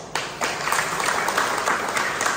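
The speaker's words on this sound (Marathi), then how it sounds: "तुम्ही टाळ्या वाजवल्या ठीक आहे" An audience at a village meeting claps steadily in sustained applause, starting abruptly and growing fuller within a moment, dense and fairly loud, with no talking over it.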